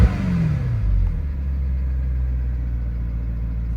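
Mercedes S63 Designo engine running at idle, a steady low rumble throughout with a slight dip in pitch early on as it settles into idle.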